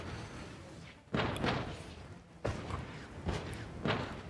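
Artillery fire in the strategy game Regiments, several heavy booming impacts landing at intervals of about a second, each a dull thud with a rumbling tail over steady battlefield noise, with no talking.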